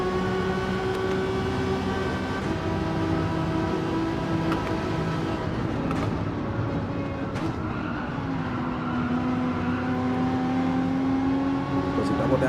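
A race car in Gran Turismo 7 at the Nürburgring 24-hour race drones with a sustained engine note that rises and falls as the gears shift down. The sound is loud and continuous throughout.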